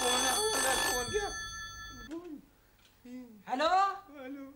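An old telephone bell rings loudly in two bursts at the start, then stops as voices speak in an indoor scene from an old Marathi serial.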